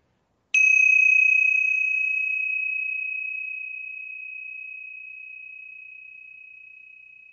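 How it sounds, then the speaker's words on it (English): Tingsha bells struck once, a bright metallic ring that sustains and slowly fades over several seconds, clear and alone after a moment of silence. "I'm going to ring the tingsha bells to clear any negative energy from our space"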